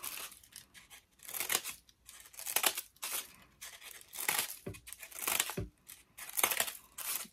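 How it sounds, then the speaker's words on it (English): Scissors cutting strips of crepe paper for handmade morning glory flowers, with repeated crisp snipping and tearing bursts in an uneven rhythm, close and fairly loud. "we're going to cut a few more strips of this."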